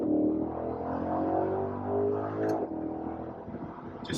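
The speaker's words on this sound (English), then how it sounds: "Just instantaneous dual clutch shifts, just like the R8." A 2022 Chevrolet Corvette Z51 accelerates hard through quick dual-clutch gear changes, its engine droning and rising in pitch with brief breaks at each shift, heard from inside the car at moderate level.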